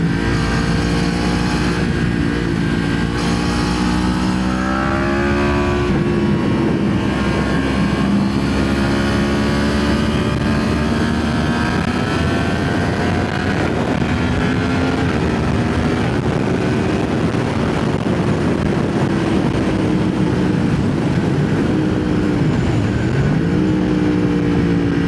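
Loud, continuous engine drone of a restricted Yamaha MT-07 motorcycle while riding, with harmonic tones rising and falling as the revs change and steady wind rush throughout, no talk.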